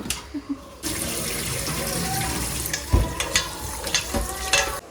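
Tap water runs while beef is washed in a sink, a couple of brief clunks first, then a steady close splashing rush with intermittent sloshing handling sounds and no talking.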